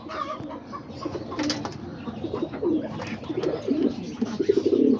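Pigeons coo in a loft on a rainy day, several low, throaty calls overlapping in an uneven rhythm close by, with a few soft rustles and wing flutters.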